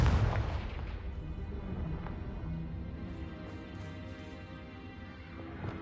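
A Confringo fire spell explodes in Hogwarts Legacy, with a loud, close blast at the start that settles into a sustained rumbling roar with a few small pops, and no talk over it.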